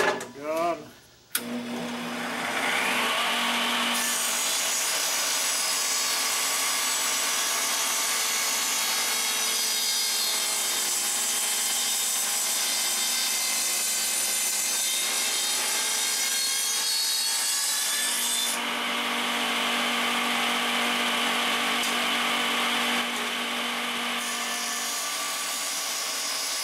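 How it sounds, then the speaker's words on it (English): A table saw rips half-inch wood slats off a board against a set fence, a loud steady whine of blade through wood held for long stretches, easing briefly around the middle, with no talking over it. "I'll cut some half inch slats off of this."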